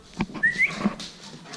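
Two dogs whimpering indoors near a couch before heading out to the dog park: a few short, high, thin whines and a brief whistly rising cry, fairly close and alone without talk.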